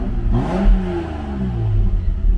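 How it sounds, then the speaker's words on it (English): A Lexus SC300 engine, still running its stock muffler, revs in one quick rising-and-falling sweep before settling back to idle, close and fairly loud with no talking. "Rev it real quick."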